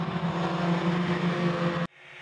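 Buran snowmobiles roar together at the start of a ten-rider final in a snow motocross race, a loud sustained engine drone that cuts off abruptly, leaving quieter distant motor noise.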